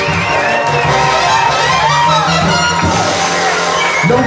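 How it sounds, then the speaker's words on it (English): Wedding guests cheer and whoop loudly for the newly married couple at their reception, a dense continuous crowd roar with shouts rising above it throughout. "Come on, let's give them a nice round of applause."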